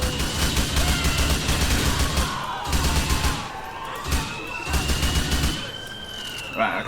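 Bursts of gunfire aimed at a car's tires in GTA Liberty City ring out in several rapid volleys, loud and close, with a siren wailing behind and game ambience between the bursts.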